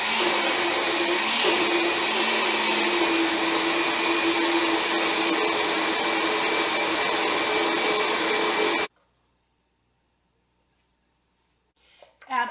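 A blender runs steadily, whirring loud and close as it blends an artichoke and chickpea sauce for about nine seconds, then cuts off abruptly into near silence before a brief clatter.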